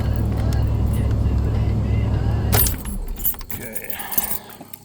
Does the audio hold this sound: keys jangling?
yes